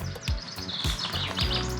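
Birds chirp and tweet repeatedly, several quick calls overlapping against a steady outdoor background.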